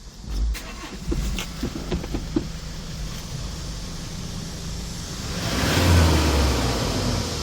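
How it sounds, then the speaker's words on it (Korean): A 2018 Hyundai Porter II one-ton truck's Euro 6 diesel engine with 121,000 km cranks and catches, then idles steadily before revving up louder for a couple of seconds, heard up close with no talking. "자 시동을 한번 끌어볼게요. 엔진 소리가"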